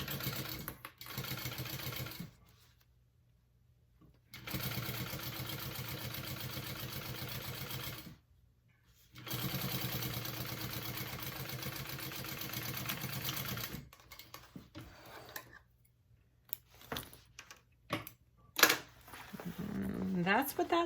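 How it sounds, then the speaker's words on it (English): A sewing machine stitches a seam on a bag panel in three long, steady runs of motorized whirring separated by pauses, with a speaking voice between and over the runs. "we're going to sew this on at a 3/8 inch seam allowance"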